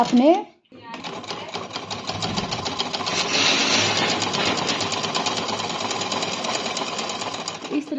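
Sewing machine running a hem along the bottom of a salwar, a steady rapid mechanical chatter lasting several seconds after a brief start, close and fairly loud, with someone talking over it at the start.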